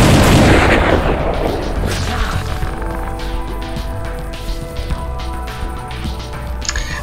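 An assault rifle Burning Volley attack in the Dead Age video game opens with a loud booming blast, then a sustained rumbling wash of fire and impacts with ringing tonal layers underneath for several seconds.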